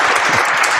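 Applause sound effect fired from a soundboard button, a short burst of crowd clapping filling the moment at steady loudness with no talk over it.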